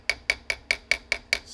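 Polished hammer taps metal back into place on a Browning 725 shotgun during a stock crack repair, eight crisp, evenly spaced metallic strikes in steady rhythm, close and clear with no talking.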